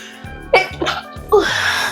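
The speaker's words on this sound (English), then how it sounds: "I did have to sneeze." A single close, loud sneeze, preceded by a couple of sharp sharp breaths or sniffs building up to it.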